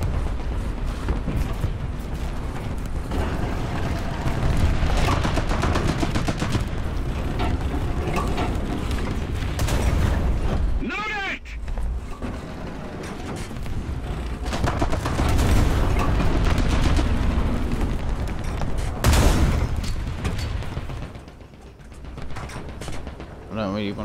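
Battle noise in the War Thunder tank game: near-continuous gunfire and heavy cannon blasts crackle and boom across the scene, with a sharp loud shot in the middle and another later, while a player talks over the fighting.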